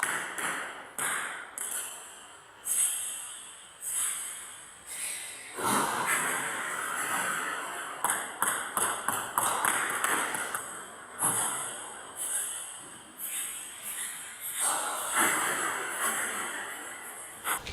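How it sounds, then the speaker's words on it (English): Table tennis ball struck repeatedly with a racket during serve practice, a series of sharp close pings at irregular intervals, some in quick clusters, with light ambient noise between hits. "I'm brushing the ball up as well as using my wrist"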